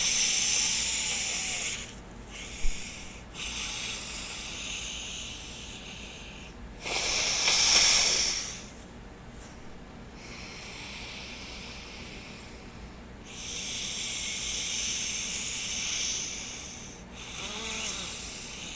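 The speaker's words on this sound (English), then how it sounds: "Ujjayi breathing." Ujjayi breathing up close: several drawn-out, throaty hissing breaths separated by short pauses, some rougher and louder like a snore-tinged rasp, with no talking.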